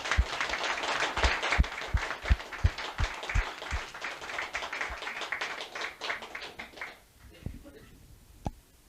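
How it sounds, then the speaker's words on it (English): Applause from an audience at a 1988 evening event in Effin Hall, a run of dense overlapping claps that fades out, followed by a few scattered claps. "put your hands together and give a big round of applause to John Keefe"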